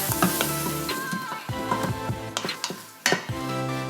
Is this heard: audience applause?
no